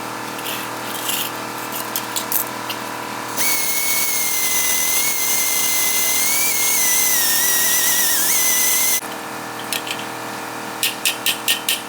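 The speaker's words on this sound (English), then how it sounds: "So I'm gonna bolt that side up" A power tool runs steadily for about five seconds while a seat bracket is bolted up during a mock-up of Bonneville seats in a white box Chevy, with quieter clicks and short ticking bursts before and after.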